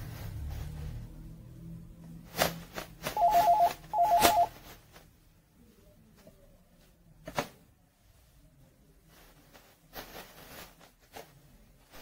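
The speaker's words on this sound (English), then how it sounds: "I dial 0 for the operator. See, this is going to call the operator." A Panasonic KX-TES824 office phone system dials the operator: a few short beeping tones in two brief bursts, then sparse clicks and quiet handset noises, faint and close, with no one speaking.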